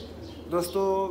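A pigeon gives a short, soft coo, a brief low call that ends almost at once.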